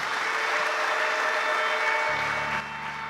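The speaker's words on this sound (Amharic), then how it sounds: "አጨብጭቡለት የምስኪን ወንድማችን።" Steady applause from a church congregation at a prophet's healing service fills the whole stretch, loud and continuous, with a low hum joining near the end.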